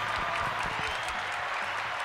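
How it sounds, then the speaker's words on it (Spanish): Applause from an audience at a live music show, a dense steady clapping that fills the whole short moment at moderate distance. "aplausos, por favor"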